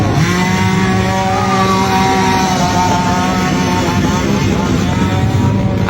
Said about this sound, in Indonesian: Ada mesin ketam kayu.